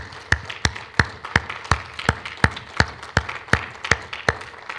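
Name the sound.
congregation applause in church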